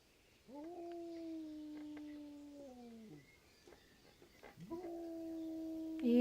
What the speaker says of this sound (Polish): Jezu, jak ten pies wyje.